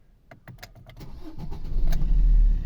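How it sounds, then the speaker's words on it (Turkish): A Fiat Fiorino car engine is started: a few seconds of rapid starter cranking, then the engine catches and rises into a loud, steady close-up running rumble, with no voices. "Öncelikle aracımızı çalıştıralım."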